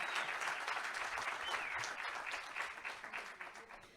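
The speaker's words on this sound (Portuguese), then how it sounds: "Cadê as palmas para ela," An audience at a Brazilian foreign-trade conference applauds the event's moderator. The clapping is dense and continuous, fairly faint and distant in the room, and thins out toward the end.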